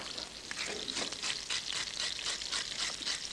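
Pasta tossed in a big frying pan, a continuous sizzling hiss broken by rhythmic scraping and stirring surges, close and fairly quiet.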